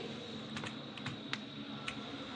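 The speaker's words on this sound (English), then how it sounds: "Here I am going to type a name" A few light keystrokes on a computer keyboard while typing a file name, faint scattered clicks over a steady hiss of room noise.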